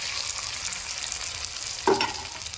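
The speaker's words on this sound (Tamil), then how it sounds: "நம்ம வெட்டி வச்ச தக்காளியும் இந்த எண்ணெயில் சேர்த்து வதக்கி எடுத்துக்கிறோங்க" Tomatoes, onion, garlic and green chilli sauté in hot oil with a steady close sizzle and a brief stir or scrape near the end.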